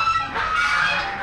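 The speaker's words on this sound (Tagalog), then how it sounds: "Banda ron, sa mga alaga nilang bibi." Domestic pet ducks calling together in a steady, continuous chorus of honking quacks, fairly close and loud throughout, with no talk over them.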